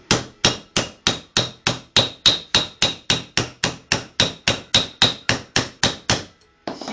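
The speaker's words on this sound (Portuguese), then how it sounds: "Rosqueei ela, tô batendo sem muito peso e sem muita força." Metal hammer blows tapping a nut onto a dynamo fan shaft during a repair, struck lightly without much force: about twenty evenly spaced, sharp strikes in a steady rhythm, loud and close, with no talk.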